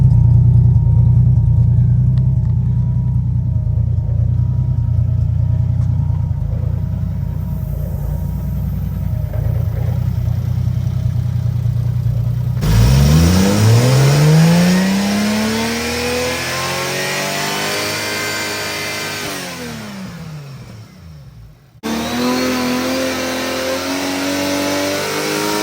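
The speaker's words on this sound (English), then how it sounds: "So I'm gonna turn on both cars and show you how bad the belt actually flops." Two Toyota JZ-engined drift cars start and idle, one after the other, with loud revving swells and a cut-off before the second engine fires back up close by.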